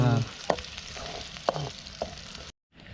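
Onion frying in hot oil at an outdoor cooking spot in the forest, heard as a low sizzle punctuated by a few sharp spatula taps before cutting out briefly near the end.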